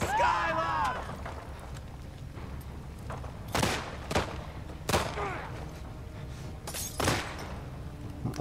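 Several sharp bursts of gunfire in the video game The Last of Us Part II crack out in irregular bursts, some close and loud, over a low rumble with brief voices early on.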